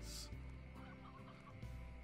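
Several soft clucks from Slime Rancher video game chickens come in uneven bursts against a steady low rumble, with a brief hiss at the start and no speech.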